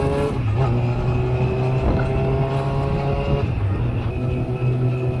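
A Kawasaki ZX6R motorcycle being ridden, with a loud, steady engine drone and rushing wind noise recorded close up from a mirror-mounted camera.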